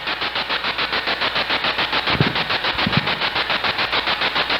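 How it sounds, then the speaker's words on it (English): Spirit box radio sweeping through stations, producing loud, steady pulsing static bursts in a fast regular rhythm, with a couple of brief low thumps partway through and no voices. "Let's go ahead and turn the spirit box off for now."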